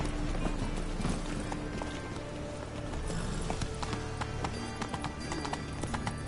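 In The Witcher 3, Roach's hooves clip-clop in a steady ridden rhythm over a busy bed of game ambience, close and clear with no talking.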